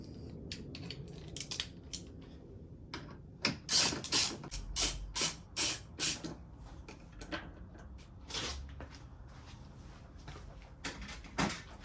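Ratchet with a T30 Torx bit backs out the top grille screws on an Audi B6/B7 A4 or S4, giving a run of close, sharp clicking bursts in irregular groups, with a few pauses and some handling noise between them.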